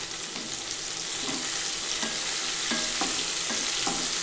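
Sliced onion sautéing in a pan for vegetable pulao, a steady close sizzle with a spoon stirring and scraping in regular soft strokes, no voices.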